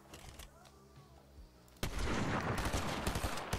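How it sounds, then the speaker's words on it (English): Gunfire in a video game bursts in suddenly after a quieter stretch: a loud, dense volley of rapid shots and bangs fills the second half, close and continuous. "I hear some gunshots."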